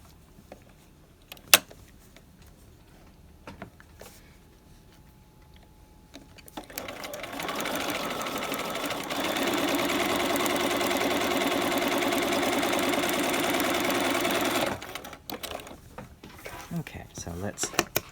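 A sewing machine runs in a steady mechanical whir for about eight seconds, stitching piping down the other side of a V neck to form the corner, with quieter handling sounds and light movement before and after.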